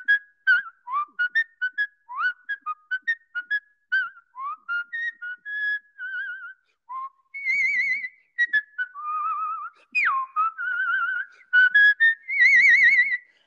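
Skilled human whistling of a tune on stage, clear warbling melodic phrases with vibrato, played alone and close without talk.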